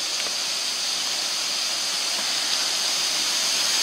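A waterfall roars in a steady, dense hiss, loud and unbroken throughout with no voices or other sounds.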